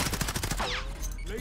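Rapid automatic gunfire from Call of Duty on Rebirth Island, a dense burst of repeated shots in the first half second that gives way to quieter game sounds and tonal effects.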